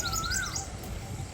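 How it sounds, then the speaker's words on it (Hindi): An Asian koel calls outdoors in summer, a clear rising whistle followed by a few higher chirps, moderately near over low ambient rumble. "यहाँ पे कोयल की आवाज़ आ रही है।"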